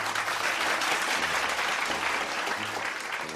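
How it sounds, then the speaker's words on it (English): A conference audience at a closing session claps for the honorees, a thick continuous wash of many hands that stays loud and even from start to finish. "Let's give them another round of applause."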